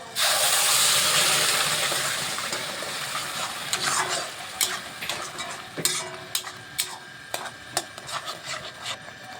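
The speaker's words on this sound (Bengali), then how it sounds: "এখন টমেটোটা দিয়ে দিচ্ছি।" Ground tomato poured into a hot pan for pizza sauce: a loud sizzling rush at first that fades, followed by scattered spatula scrapes and taps against the pan.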